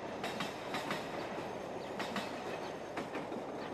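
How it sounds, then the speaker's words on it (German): A train rolls along in the video game Traumfänger, a steady rumbling ride with rhythmic clickety-clack wheel beats repeating under continuous carriage noise, heard alone without talking. "Und da saß ich nun in dem Zug, der mich nach Hause brachte."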